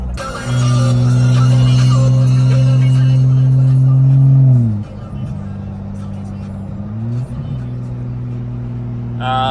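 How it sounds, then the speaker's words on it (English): Car on the I-95 highway in heavy traffic, a loud steady engine drone heard from inside, shifting pitch as the car slows and picks up again. "now I'm on the 95. Got a lot of traffic though"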